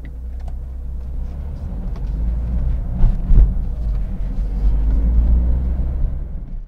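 Smart Fortwo Passion car driving, heard from inside the cabin as a steady low road and engine rumble that swells slightly in places, with no talking.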